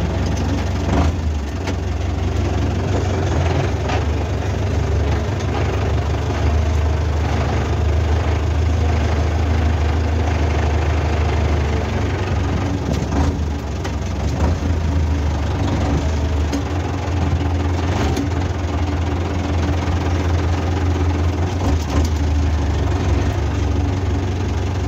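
A Renault 4L engine idles close by, a steady, loud low-pitched rumble with a slight knocking texture that holds unchanged throughout.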